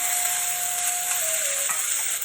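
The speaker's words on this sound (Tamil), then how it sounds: "இந்த கத்திரிக்காய் முருங்கைக்காயெலாம் வதங்கட்டும்" Eggplant and drumstick vegetables sizzling in a hot pan for sambar, a steady bright crackle with a faint scraping stir partway through.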